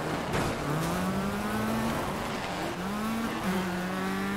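A rally car in the Colin McRae Dirt 2 video game accelerates hard, the engine note climbing through gears with brief shifts and some tire noise, steady and fairly quiet.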